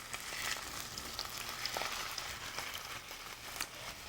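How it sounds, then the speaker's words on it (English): Chicken fries in olive oil on a preheated skillet, a steady soft sizzle and crackle with faint pops throughout, quiet and close with no voices. "just cook it first on preheated skillet, of course, and on olive oil"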